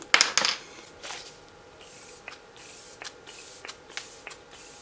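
Fix Plus makeup setting spray hisses from its nozzle in a couple of quick close bursts at the start, followed by softer rustling and handling sounds.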